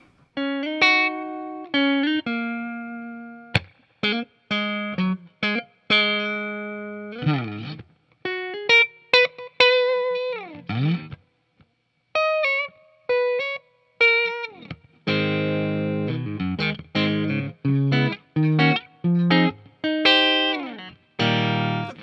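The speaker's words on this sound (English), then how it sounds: "I find these really bright bridge pickups work really well with distortion" 2021 PRS Silver Sky electric guitar on its bright bridge pickup with heavy distortion, playing a series of bright, sustained notes and short chords, with crisp attacks and pauses between phrases.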